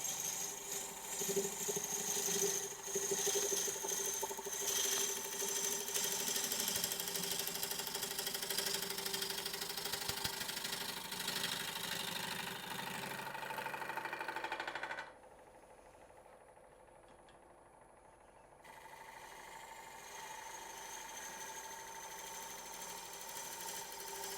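A wood lathe spinning as a gouge takes a shearing cut up the side of a natural edge bowl, a steady whirring hum with scraping texture for about fifteen seconds, then quieter, fainter running, with no talk.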